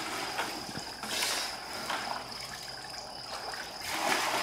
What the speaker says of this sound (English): Water fills up really slow